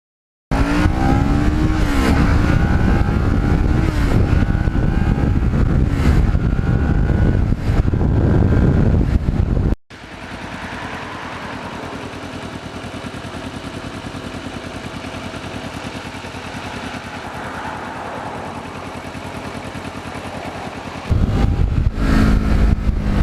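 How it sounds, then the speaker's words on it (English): A 2009 Kawasaki EX650R Ninja special edition motorcycle engine revs hard and loud with a raspy high-RPM tone, then settles into a steadier, quieter cruising drone under wind noise before the engine rises again. "it has a really nice rasp when you get it up in a higher RPM range"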